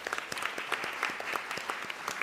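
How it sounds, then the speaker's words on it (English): Sparse clapping from a conference audience thanking a panel, individual claps distinct and fairly quiet, scattered in an irregular patter throughout. "Let's give them a better round of applause."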